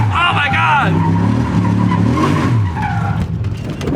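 LS-swapped BMW E46 spinning a donut at around 2,000 RPM, its tires squealing and skidding over a low V8 drone, heard close with excited voices talking over it.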